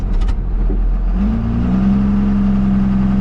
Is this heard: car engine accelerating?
yes